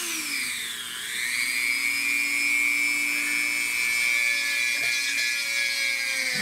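A power drill bores holes in an air rifle to fit a side-mounted bipod, its motor whining steadily at close range, dipping in pitch briefly near the start and then holding a sustained tone.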